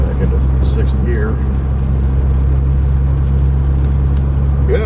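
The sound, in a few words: car engine while driving, shifting into sixth gear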